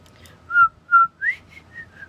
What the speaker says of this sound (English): That was maybe the weakest whistle I've ever done in my life.